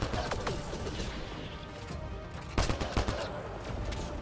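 Weapon fire in the sci-fi shooter Mass Effect Andromeda, a few sharp gunshot bursts with heavy recoil punching through a dense layer of game ambience and effects, mid-distance and moderately loud.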